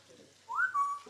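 A zoo bird gives a single clear rising-then-level whistle, close and alone against a quiet background.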